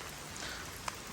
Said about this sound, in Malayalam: മഴ 2 ദിവസമായിട്ട് നിൽക്കാതെ മഴ പെയ്യുന്നുണ്ട്